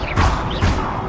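Two blunt, booming thuds from the Confringo blasting spell in Hogwarts Legacy, loud and close, spaced less than half a second apart.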